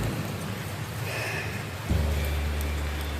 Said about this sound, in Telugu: లైట్గా వర్షం పడుతున్నా